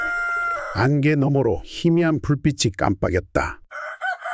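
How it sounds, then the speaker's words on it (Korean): A rooster crows at dawn near a gently flowing river, one long drawn-out call, loud and close, heard alongside a narrating voice. "멀리서 새벽닭이 울고"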